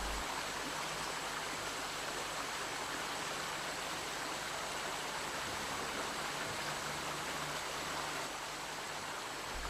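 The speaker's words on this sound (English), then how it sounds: "our path is barred by a fast-flowing river." A fast-flowing river in Costa Rica where it swells a lagoon near the sea, rushing in a steady, loud, unbroken wash of water noise that stays constant throughout.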